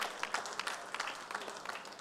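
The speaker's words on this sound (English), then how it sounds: "Big round for applause for Girdhar bhai." Audience applause at a golden jubilee conference inauguration, many hands clapping in a thick, uneven wash for the conference secretary, moderately loud and steady for its short length.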